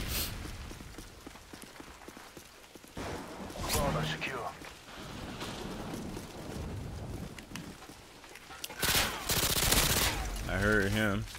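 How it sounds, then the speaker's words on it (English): An MP5 fires rapidly in a Call of Duty: Modern Warfare 2 match, with sharp bursts scattered across the clip and a heavier stretch near the end, while a player talks throughout. "Rapid fire MP5."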